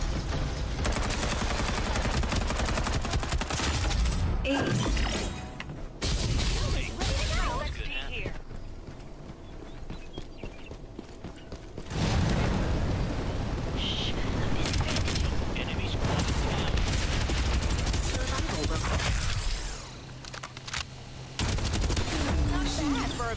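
Sustained automatic gunfire in the shooter Farlight 84, long dense bursts broken by short pauses, loud and close, with game voice lines and talk in between.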